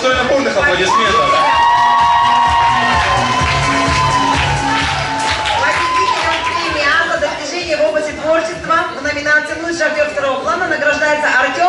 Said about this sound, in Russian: Это достойно бурных аплодисментов.